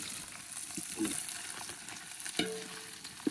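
Tomato is added to a frying pan while cooking a spiced biryani, giving a faint, steady sizzle with scattered stirring scrapes and clinks.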